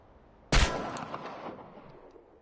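A single loud pistol shot at a target in the video game Chernobylite, a sharp crack followed by a long fading echo and faint ringing tail.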